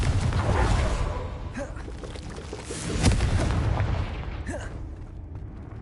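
A Confringo spell explodes in a Harry Potter video game, giving a broad rumbling blast with a second swell a few seconds later, dense low boom fading gradually.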